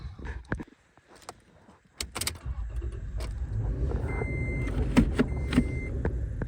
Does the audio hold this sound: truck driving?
yes